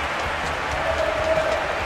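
Steady crowd applause and cheering from a stadium in the football video game PES2021, a Europa League match between Manchester United and Real Sociedad, filling the short moment at an even, fairly loud level.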